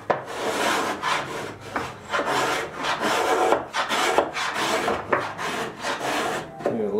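A hand plane works across the grain of a wooden table top, giving repeated rasping, scraping strokes in a steady rhythm, close and loud with brief pauses between passes.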